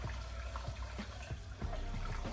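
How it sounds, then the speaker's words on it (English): Fresh water pours and trickles into an LMTV military truck radiator during a flush, a close, soft splashing and gurgling with small irregular bursts. "I'm gonna put a little fresh water in it, run that out"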